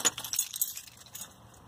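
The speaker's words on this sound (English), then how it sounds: "Found my keys." Keys jangle in a bright metallic burst up close, loudest in the first half-second, then rattle more softly and trail off into a faint outdoor hush on an early, cold morning before driving.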